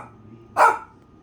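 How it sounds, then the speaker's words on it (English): A small dog gives a single short, sharp bark, close and loud against a quiet background. "My little dog won't stop barking."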